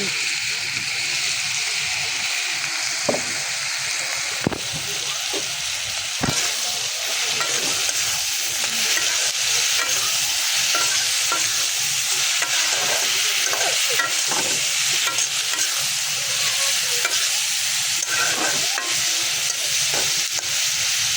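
Shrimp frying in a pan as a home curry reduces, giving a steady, loud, close sizzle with hissing steam and occasional stirring scrapes throughout, continuous for the whole stretch.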